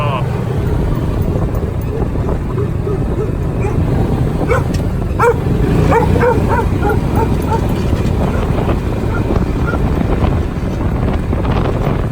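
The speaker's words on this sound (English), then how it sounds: "Dog again." A dog barks several times while a Kawasaki Mule 2510 utility vehicle is driven. The barks are clustered mid-way and partly buried under loud, constant engine rumble and wind buffeting.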